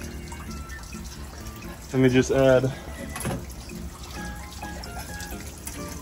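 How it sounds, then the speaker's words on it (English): Water runs from a hose into a cleaned snapper turtle pond, a steady faint splash and trickle continuing beneath a short burst of nearby speech. "I got the hose in there, recirculating that water."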